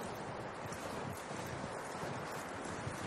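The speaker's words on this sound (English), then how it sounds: "That looks like a decent horse." Horse hooves clip-clopping on a trail in the video game Red Dead Redemption 2, a steady soft rhythm of footfalls under wind and rustling, moderately distant and fairly quiet.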